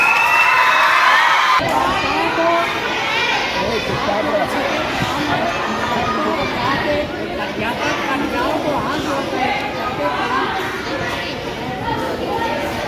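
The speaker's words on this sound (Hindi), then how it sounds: "बच्चों के बीच में जोरदार तालियां आपके साथ" A crowd of children at a national children's assembly in Narwal cheers and shouts loudly, a lively mass of young voices and whoops that follows an abrupt start and continues as an energetic, sustained hubbub.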